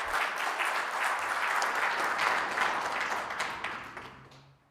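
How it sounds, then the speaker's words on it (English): Audience members clap during a state of the region address for Otjozondjupa Region, a broad, continuous burst of applause that holds steady and then tapers off toward silence at the end. "If you don't clap hands, I don't know when are you going to clap hands."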